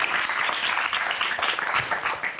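Applause from an audience for a young girl's speech on a Marathi TV show, heard as a dense, steady wash of clapping that holds at an even level throughout with no talking over it.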